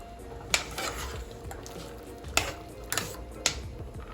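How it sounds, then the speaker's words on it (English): Macaroni being stirred in a pot with a little oil, giving a few sharp metallic clinks and scrapes of a utensil against the pot over a faint background hiss. "I'm just gonna give this a stir."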